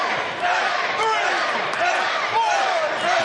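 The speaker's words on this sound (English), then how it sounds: "That crowd going." A wrestling arena crowd roars and cheers steadily during an AR Fox versus Lio Rush TV title match at a Ring of Honor Supercard, loud and continuous, with commentators talking over it.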